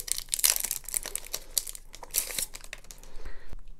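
Packaging of an Amazon Fire TV Stick is opened by hand, close, crisp crinkling and rustling of plastic and paper in irregular bursts with brief tearing sounds, no speech.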